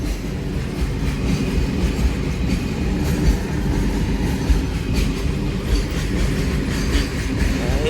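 A train rolls past nearby at a railway crossing, a heavy rumbling roar with rhythmic wheel clatter on the rails, steady throughout.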